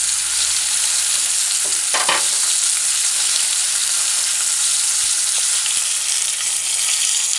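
Floured chicken pieces fry in a pan with a constant, loud hissing sizzle, joined by a few brief clatters of stirring and no voices.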